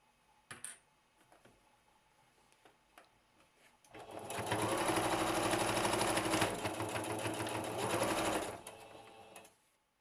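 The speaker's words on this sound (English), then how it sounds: "set your stitch, and then sew along the edge" A sewing machine stitches along the edge of a whole-cloth quilt piece in a long steady whirring run of about five seconds. Faint clicks come before it, and it stops abruptly, close and with no voice.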